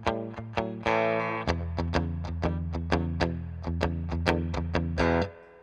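Electric guitar through the clean channel of a Paul Reed Smith amp, playing a run of picked notes and sustained chords alone, with steady ringing tones and clear attacks for about five seconds before cutting off.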